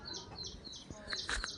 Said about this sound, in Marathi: कोंबड्या बघा इकडं